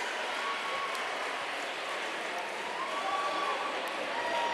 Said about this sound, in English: Cheering on the Cougars who finally take the lead here.